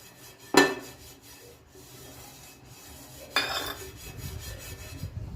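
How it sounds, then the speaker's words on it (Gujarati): Oil is rubbed over a thick-bottomed tawa pan, making two short scraping swipes about three seconds apart against a quiet background. "આ રીતના તવાને સારી રીતના આપણે ગ્રીસ કરી લઈશું।"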